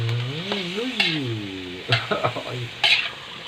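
Food stir-fried in a pan gives a low sizzle with scraping strokes and clanks from a utensil, partly under a voice that talks at the start.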